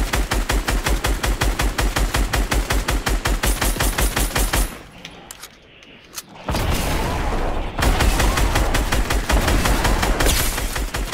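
Rapid, loud bursts of automatic gunfire and heavy shots in the video game Fortnite hammer away in dense repeating volleys, break for a short muffled lull with a sniper-like crack, then resume just as intensely.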